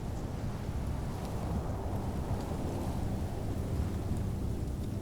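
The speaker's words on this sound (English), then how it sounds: "The storm." Thunderstorm with rain from The Pillars of the Earth video game: a dense, steady roar of rainfall and low rumbling thunder filling the whole stretch, with no voices.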